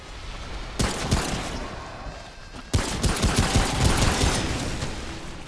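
Gunfire in the co-op PC video game Remnant: From the Ashes during a boss fight. Two sharp blasts are followed by rapid, rattling automatic fire over a buzzing, insect-like drone, loud and close.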